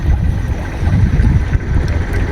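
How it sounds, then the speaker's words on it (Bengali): A river trawler passing near Mayapur–Nabadwip gives a low, rumbling engine drone mixed with wind buffeting on the microphone and water noise, steady and fairly loud throughout. "আরে দেখো বন্ধু, পাশ থেকে একটা ট্রলার যাচ্ছে"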